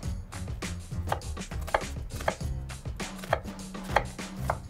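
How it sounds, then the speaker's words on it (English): A kitchen knife chops onions on a cutting board in quick, steady strokes, close and crisp, each cut landing with a distinct tap, with no talk. "we'll go ahead and chop up the onions first"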